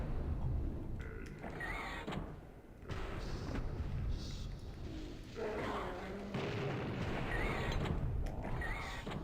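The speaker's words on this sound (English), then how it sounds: "Take the rocket launcher to the face." Rocket launcher blasts in the shooter game Blood, heavy booming explosions and thuds recurring through a dense, loud mix of game noise.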